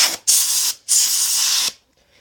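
A compressed-air nozzle blows out the carburetor parts of a 50cc engine in two loud, close hissing bursts of about half a second and one second, separated by a brief pause.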